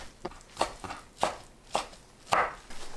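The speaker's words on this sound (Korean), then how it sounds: "미역을 1cm 간격으로 썰어주세요." A knife chops soaked seaweed into 1 cm strips on a cutting board. Crisp, close thuds land at an even, unhurried rhythm, about five distinct cuts, with no voices.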